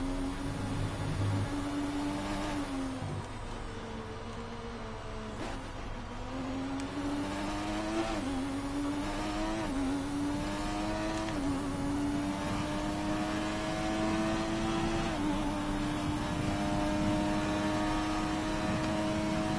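A 1990s Benetton Formula 1 car engine in the F1 2020 racing game screams steadily, its high pitch rising through the rev range and dipping briefly at gear changes across a long continuous run.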